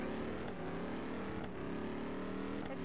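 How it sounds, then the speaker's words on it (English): A car accelerating in a Roblox video game: a continuous, steady engine drone with a few brief clicks, faint and without talk. "This is a really good accelerating car."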